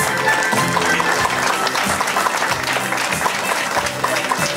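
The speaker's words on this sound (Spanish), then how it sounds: "Un fuerte aplauso, por favor." Guests at a quinceañera celebration applaud loudly during a Bible presentation to the honoree. The clapping is steady and dense, with a little crowd murmur throughout.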